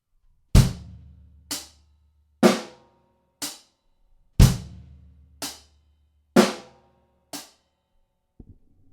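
A basic beginner rock beat on a drum kit, with kick, snare and hi-hat alternating in a steady pattern of evenly spaced, ringing hits that carry on alone for about two bars.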